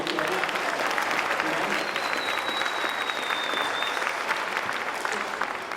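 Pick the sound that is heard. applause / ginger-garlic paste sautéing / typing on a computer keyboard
applause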